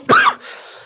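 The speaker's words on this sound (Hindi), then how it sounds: "आज तो कुछ ज्यादा ही खांसी आ रही है दोस्तों" A single short, forceful cough from someone speaking Hindi, a sharp burst followed by a faint breathy tail, close and fairly loud.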